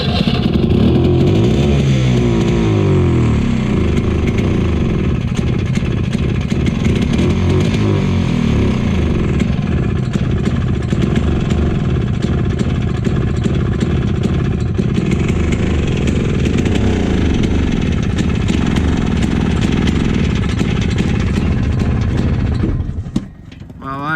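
A 1970s ATTEX 6x6 ATV engine turns over and keeps running with a steady, loud motor drone close by, cutting off abruptly near the end.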